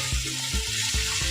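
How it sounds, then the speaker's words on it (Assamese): Onions fry in oil in a pan for an egg curry, a short, close, continuous sizzle with faint bubbling and no talking. "পিঁয়াজখিনি দি এনেকৈ ভালকৈ ভাজি লওঁ, অলপমান ৰঙচুৱা কৰি লওঁ"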